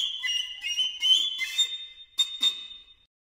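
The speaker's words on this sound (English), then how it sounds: "the thing the piccolo is most famous for is its brilliant top octave, where it soars above the sound of the whole orchestra" Piccolo in its brilliant top octave with orchestra, playing a few high, piercing sustained notes, then short accented bursts before a held tone fades.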